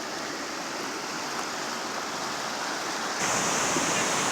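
Silty, murky creek water flowing along a mountain trail, a steady broadband rush that stays loud and close throughout with no talking, growing slightly stronger near the end.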